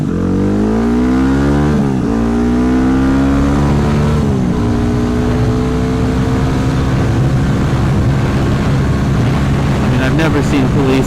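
A Yamaha WR250X motorcycle engine runs steadily while riding with higher gearing, its harmonic drone rising through gears with shifts near two and four seconds, loud and close under continuous wind rush.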